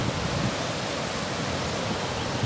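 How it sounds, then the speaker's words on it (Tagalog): Strong, steady rushing water of a river beneath a bridge fills the clip, a broad continuous roar heard up close, with no voices. "Saka malakas yung alon dito."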